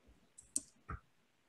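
Two or three light, separate key taps on a computer keyboard, faint and close in an otherwise quiet room.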